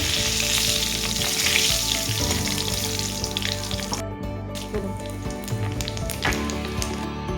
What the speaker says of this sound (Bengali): তো এই তেলে আমি আর একটু তেল দিব শুকনো লঙ্কা আর দিব তেজপাতা